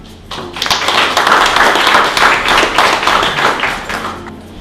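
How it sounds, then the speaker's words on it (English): Audience at an evening seminar on general terms and conditions gives a warm round of applause, a dense wash of clapping that swells quickly and holds steady before tapering off near the end. "Please give us a warm applause for Jamila Lawrence."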